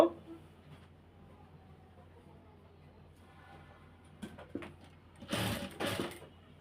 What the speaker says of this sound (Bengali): এখন এই যে চিক করে নিচের অংশটা এখন সেলাই দিচ্ছি।